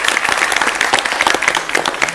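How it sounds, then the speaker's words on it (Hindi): A live studio audience at an Indian political TV debate show applauds to welcome a guest. The clapping is loud and dense, with no voices on top of it. "तालियों के साथ सर का स्वागत कीजिए"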